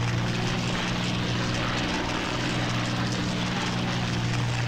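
BF-109 fighter planes from the Battle of Britain flight game Combat Wings drone steadily, a continuous propeller-engine hum with low throbbing tones that stays loud and even throughout, with no voices.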